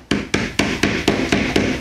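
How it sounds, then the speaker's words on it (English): A rubber hammer taps trim onto an arcade cocktail cabinet kit, seven evenly spaced dull knocks landing about every quarter second, close and clear with no talking. "We're just going to use the rubber hammer and get it all the way down to this corner."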